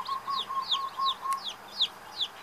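Jungle fowl hen in Hawaii calling her chicks with a series of six or so short, evenly spaced chirping clucks, clear and close, over a faint steady tone at the start.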